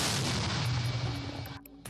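A Ukrainian tank gun fires near Bakhmut and the shell hits its target. The blast is a heavy, close boom that rumbles and fades over about a second and a half, then cuts to near silence.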